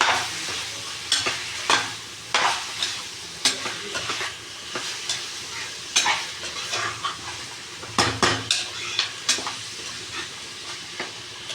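Chicken frying with ginger garlic paste in a pan, stirred briskly so that rhythmic scraping clatters ride over a constant close sizzle.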